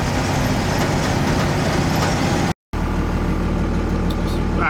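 A first-generation Dodge truck engine runs at wide open throttle while the truck gains speed on flat ground, a loud, steady broadband roar that fills the clip except for a brief dropout near the middle.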